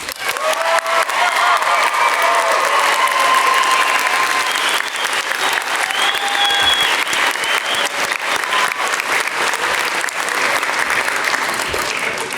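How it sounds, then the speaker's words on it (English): Sustained applause from a large audience at a university master's commencement ceremony, dense steady clapping with a few faint cheers, continuous and fairly loud throughout. "Join me in a round of applause."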